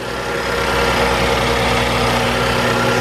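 A 2015 BMW X5 xDrive35i idles steadily up close, a smooth even hum with a constant low tone and no speech over it.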